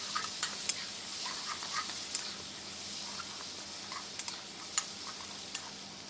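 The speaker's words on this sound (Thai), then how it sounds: "นำกระเทียมที่โขลกกับพริกครับ ลงไปผัดให้หอมครับ" Pounded garlic and chili stir-fry in hot oil in a wok, a soft continuous sizzle with scattered ticks and scrapes of stirring, fairly quiet and close.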